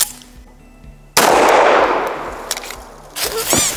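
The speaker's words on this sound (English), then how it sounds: "230 grain FMJ from a 45 ACP." A single loud .45 ACP pistol shot firing a 230 grain FMJ round, a sharp sudden blast with a long decaying echo after a quiet lead-in, then brief clattering noises.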